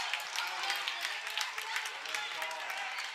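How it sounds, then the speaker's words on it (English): Home crowd at a girls high school basketball game, Waconia against St. Louis Park, cheering and clapping in a steady, fairly distant roar across a gym, with faint voices mixed into the noise. "There's the home crowd. They are into it here."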